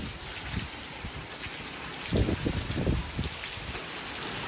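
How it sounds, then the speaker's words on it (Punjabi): A steady wash of outdoor rain on a wet day, a constant hiss with a few low knocks and bumps, fairly faint. "ਮੀਂਹ ਤਾਂ ਵਾਵਾ ਹੀ ਹੋ ਗਿਆ"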